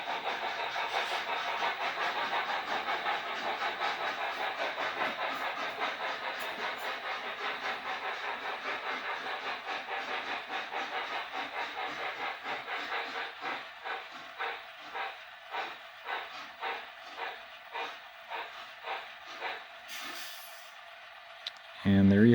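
Double-headed steam model trains hauling ore on a layout with a helix, a steady hiss with rhythmic chuffing that slows into spaced puffs before stopping, and a brief sound bursts in at the end.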